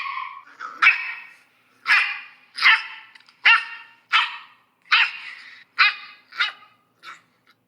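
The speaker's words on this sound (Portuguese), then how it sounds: "fez uma tremenda algazarra, latindo alto, muito alto." A dog barks loudly at a door, about ten sharp, close barks in an uneven rhythm with brief pauses between them and no talking.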